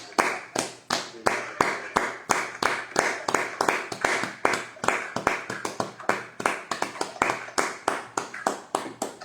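A congregation at a worship service claps in praise of God, sharp rhythmic handclaps repeating steadily throughout, close and lively with faint voices underneath.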